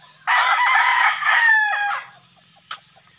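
A rooster crows one long, loud call near the camera among other chickens, followed by faint clucking and a short squawk, on a Siargao Island farm with gamecocks conditioned for a derby.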